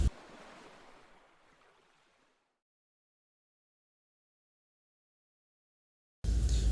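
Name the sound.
sea waves in the deep sea off Bangladesh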